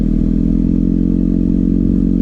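Kawasaki ZX-6R sportbike engine running steadily at low revs with the clutch held at its balance point, a loud, continuous close-up drone with slight uneven throttle choppiness and no talking.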